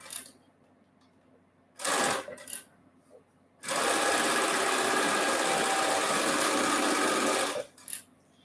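Sewing machine running on a quilt block seam for a summer sampler, a short burst, a brief pause, then a long steady stitching run of about four seconds, loud and close.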